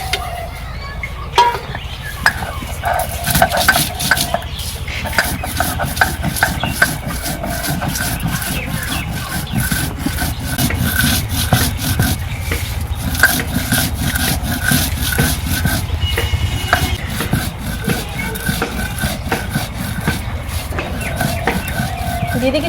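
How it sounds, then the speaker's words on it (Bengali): Roasted spices are ground by hand in a village kitchen, producing a long run of rhythmic, close rasping strokes that repeat quickly and evenly. Faint background voices can be heard. "আমি ভাজা মশলা গুঁড়ো করে নেব।"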